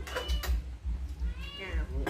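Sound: cat meowing

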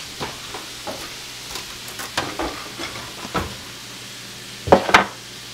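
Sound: buttered buns toasting in a pan

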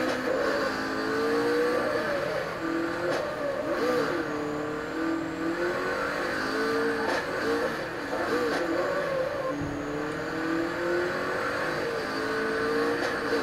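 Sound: car engine revving in video game Super Street The Game

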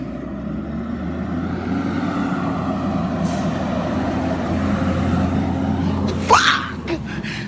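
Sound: truck with air brakes on the road

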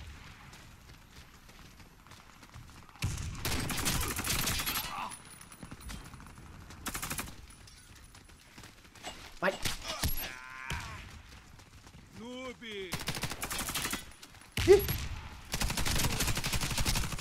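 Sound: gunfire in the video game Warface

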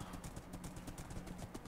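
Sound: horse hooves clip-clopping in video game Karmaland

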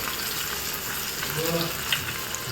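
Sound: pomfret fish frying in a pan

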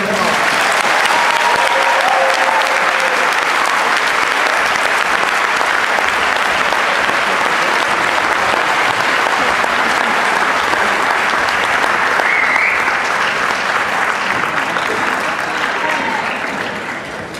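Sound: audience applause at senior awards

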